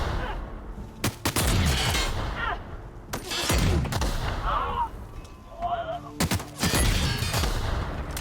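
Peacekeeper weapon gunfire in a video game: several loud, sharp bursts of shots land at irregular intervals, each decaying into a rumbling tail, with a voice talking between them.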